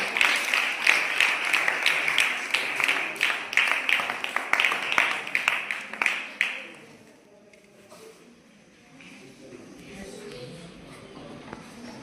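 Audience clapping at a Varamahalakshmi festival cultural programme in Gundlupet, a dense burst of applause for about six seconds that then stops, leaving quiet room murmur.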